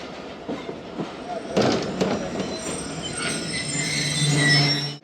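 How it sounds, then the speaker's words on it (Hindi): Karachi Express train rolling into Sahiwal railway station, with steady rumble, rail clatter and high wheel squeal building toward the end, heard close from on board. "ट्रेन हमारी अप्रोच कर रही है साहिवाल रेलवे स्टेशन"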